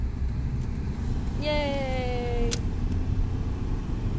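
A car drives along a snowy winter road, its steady low engine and tire rumble running throughout, while a voice gives a short cheer and a brief higher tone rises and falls over it partway through.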